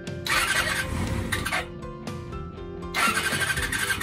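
A motorcycle engine cranks and sputters in bursts with high squealing tones on a midwinter day, stopping and restarting before catching again.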